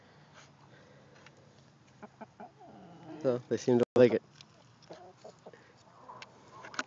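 Chickens cluck nearby, with a louder squawking burst in the middle, while a person speaks briefly.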